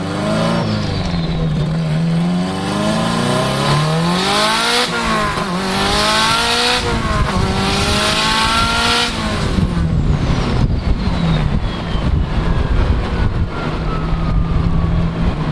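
A turbocharged Honda GC with new Radium fuel rails accelerates hard through the gears, its engine note climbing in repeated rising sweeps with shift breaks, loud and close inside the cabin with wind noise and no talking.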